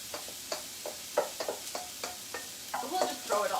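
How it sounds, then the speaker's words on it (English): Crackling sizzle of empanadas frying in hot oil, with intermittent sharp pops and scraping clatters from utensils stirring close by. "Oh yeah, we got a sizzle going."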